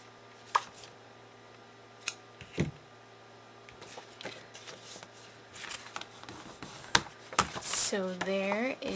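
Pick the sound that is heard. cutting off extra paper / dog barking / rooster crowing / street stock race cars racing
cutting off extra paper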